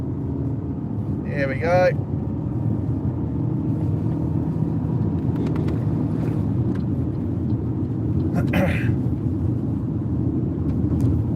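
A car overtakes a truck on a country road near Stanthorpe, Queensland. Steady engine and road roar fills the whole stretch with a slight swell, and someone speaks briefly near the start.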